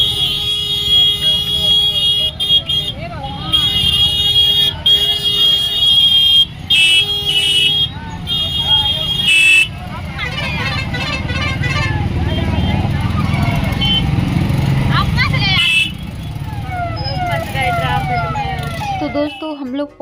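Heavy traffic packed into a busy market, with a constant engine rumble, repeated sharp horn blasts and siren-like tones close by, while someone talks throughout.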